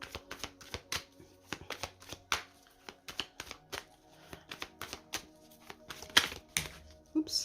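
Tarot cards are shuffled and cut by hand, a close, quiet run of irregular papery riffles and soft slaps with a few sharper snaps, no voices over them.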